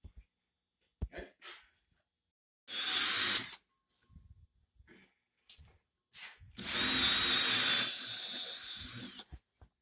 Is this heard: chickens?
no